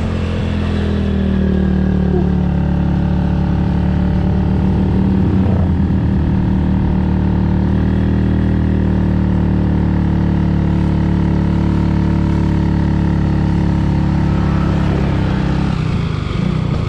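A steady, loud engine drone with a low harmonic hum, holding a labored note throughout as a vehicle climbs a steep paved mountain road in low gear toward Mount Rinjani, Lombok, with no talking.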